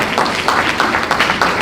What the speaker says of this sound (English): please, round of applause would be good